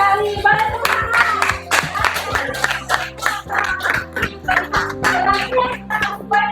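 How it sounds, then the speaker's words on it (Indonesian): Classroom clapping at a religious teacher-training session, a brief burst of hand claps from students with voices and background chatter mixed in, moderately loud and fairly close. "Boleh tepuk tangan."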